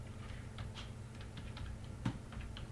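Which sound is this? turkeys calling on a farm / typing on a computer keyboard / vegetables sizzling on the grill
typing on a computer keyboard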